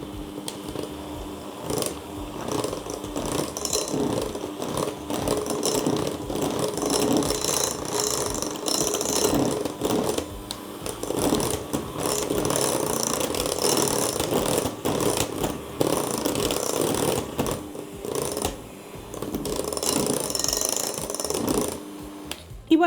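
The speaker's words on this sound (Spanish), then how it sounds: "vamos a batir a velocidad media" A steady mechanical whir with rattling, grinding texture runs continuously at a moderate, even level: an electric mixer at medium speed beating a thick Nutella cheesecake filling.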